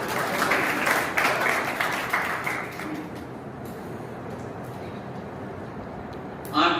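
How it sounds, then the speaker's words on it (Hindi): Audience applause in a hall during a Women's Day gathering, dense clapping at first that thins and fades to a quieter background, with a short burst returning at the end. "तालियां बजाइएगा।"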